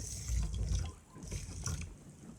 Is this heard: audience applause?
no